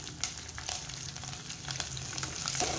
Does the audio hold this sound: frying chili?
yes